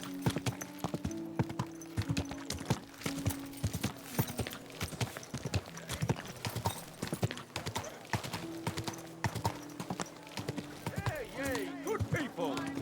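Horse hooves clop steadily on a road in Kingdom Come: Deliverance II, a continuous stream of close, crisp beats with a brief whinny near the end, while people talk over the clatter.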